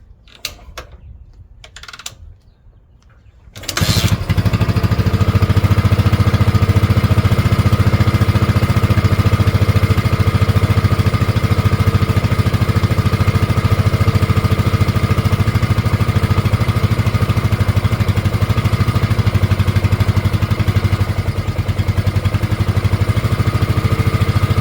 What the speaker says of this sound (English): Okay, cold start. Let's see if she'll start. On the first kick.